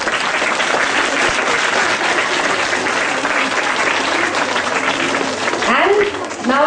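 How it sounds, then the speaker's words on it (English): Students and staff at a school Republic Day assembly applaud steadily, a thick, continuous wash of clapping that fades near the end as a voice starts speaking. "Clapping."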